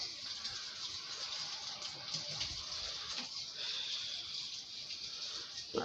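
Water runs in a steady, quiet hiss from a kitchen tap while mushrooms are rinsed under the stream, with a few faint handling noises.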